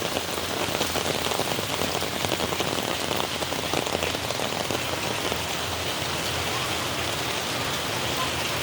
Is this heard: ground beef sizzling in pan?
no